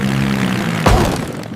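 A cartoon toy airplane flies with a droning propeller hum that holds steady, then a sudden whooshing burst as it zooms past close by before fading; no talking.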